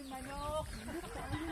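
Chicken clucking and rooster-like calls in a rural setting, short tonal bursts fairly close over a busy background, with people talking nearby in the same moment.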